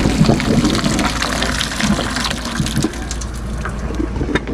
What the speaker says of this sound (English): Now I'm going to add cold water to them.